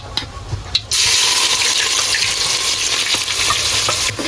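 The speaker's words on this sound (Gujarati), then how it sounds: "તો જો ડુંગળી નાખવાની છે." Onions drop into hot oil in a pan with a sudden loud sizzle that jumps in about a second in and then holds as a steady, close frying hiss, preceded by a few soft kitchen clatters.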